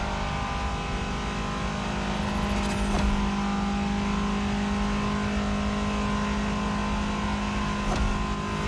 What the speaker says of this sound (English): Look, you're driving a European car.